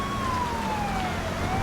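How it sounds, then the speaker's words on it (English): A police siren from GTA V sounds loud and steady, its tone gliding slowly downward over a low vehicle rumble. "when you bang them up and you bang their sirens, the soundtrack changes for the siren"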